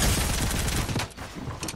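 SMG gunfire in the video game Fortnite, a dense rapid burst of shots, loud and close, tapering off briefly near the end.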